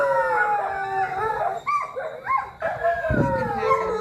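Several dogs bark and howl in drawn-out, wavering cries close by during a yoga class, with overlapping voices rising and falling throughout.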